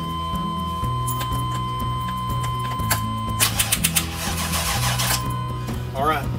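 A bus engine is cranked during a fuel pressure test, the starter turning over with a steady rhythmic churn and a few sharper knocks. People talk nearby over the cranking.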